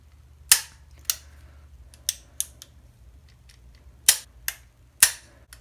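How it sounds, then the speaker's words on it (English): A CZ 75 pistol with a dummy round chambered, its trigger pulled so the hammer falls: sharp metallic clicks close up, a few spaced snaps with lighter ticks between, against near silence. "the trigger pull, which we should do with a dummy round"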